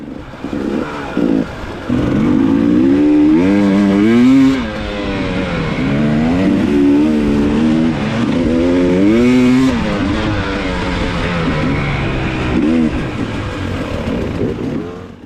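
Off-road vehicles race along forest access roads, engines droning and revving up and down in pitch as they accelerate and pass, loud and close throughout with no speech.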